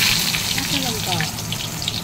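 Mustard hilsa fish sizzling in oil in a pan, a steady close-up frying hiss that holds evenly across the whole short stretch with no clear talk over it.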